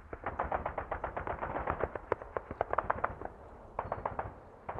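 Gunfire in the squad-based urban combat video game Full Spectrum Warrior: loud, rapid automatic bursts of sharp shots running continuously, with a short gap near the end.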